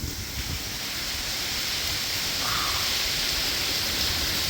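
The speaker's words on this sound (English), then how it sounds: "It's raining a little harder now." Heavy rain falls steadily during a hurricane, a loud, continuous, even hiss with no pauses and no voices.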